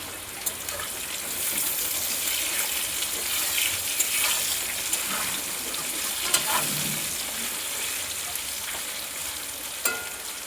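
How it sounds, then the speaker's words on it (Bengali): Potatoes fry in oil with salt and turmeric, giving a steady, close crackling sizzle throughout, with a few sharper pops and clicks scattered over the continuous hiss. "আলুগুলো নুন হলুদ দিয়ে ভালো করে ভেজে নেব।"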